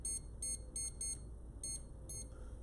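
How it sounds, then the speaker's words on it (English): Kitchen timer being set gives a series of short, faint electronic beeps in small clusters with gaps between, quiet over a low background hum. "Let me grab my timer"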